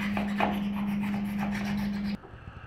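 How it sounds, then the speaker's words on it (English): Long utility knife trimming excess Great Stuff spray foam inside a truck bed shell camper, a close, steady rasping scrape over a constant hum that cuts off abruptly near the end. "having one of these long utility knives, this is a super huge help to get all this excess foam off"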